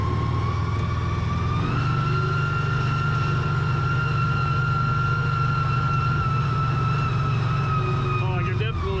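An American Landmaster L5 UTV drives in four-wheel drive, its engine a steady close drone with a whining tone that climbs slightly early and then holds, with voices briefly at the end.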